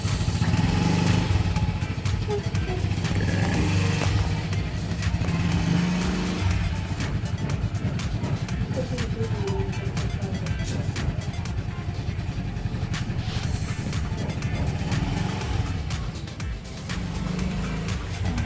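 A Yamaha Fazzio scooter is ridden away, its engine giving a continuous buzzing hum with some passing-traffic roughness throughout, fairly close and steady, with a little background chatter.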